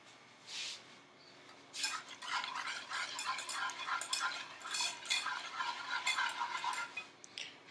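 Sugar mixture being worked with a hand whisk in a bowl, quick rhythmic scraping and clinking strokes, close and fairly quiet, running steadily after a brief opening sound.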